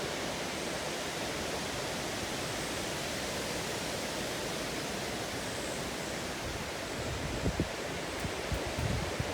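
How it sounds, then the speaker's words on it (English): Wind during Storm Isaias, a broad steady roar like rushing air through trees, continuous and moderately faint with slight gusts near the end. "You can hear the wind powering up from a distance."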